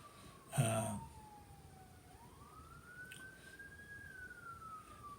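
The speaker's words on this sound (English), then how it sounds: "So ambulance going by." An ambulance siren passes at a distance, a faint long wailing tone that slowly falls then rises again, with a brief thump early on and no voices.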